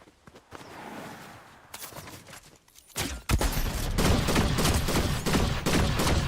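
Rapid gunfire in the Fortnite video game, sparse shots at first then erupting into dense, loud sustained bursts of automatic fire that dominate the second half.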